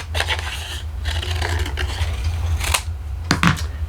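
Scissors cut through a piece of paper or cardstock for a die-cut craft project, giving a series of close, dry snipping and scraping strokes with brief pauses between them, no talking.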